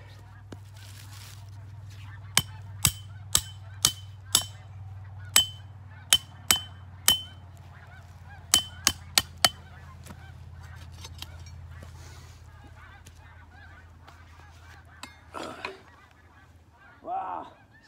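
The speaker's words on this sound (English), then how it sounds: "Snow geese, and there's a bunch of them." A large flock of snow geese, roughly two hundred birds, flies over a winter trapping site. Sharp honks sound in irregular bursts over a low background rumble, with fainter, scattered calls near the end.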